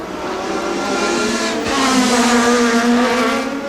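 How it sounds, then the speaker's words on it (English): A Toyota Atlantic race car runs past on the Toronto street circuit in the 1990 championship, its loud high-revving engine whine sweeping and shifting pitch as it goes by close, with no voices over it. "That's number 5, Dennis Ferrara, going by there"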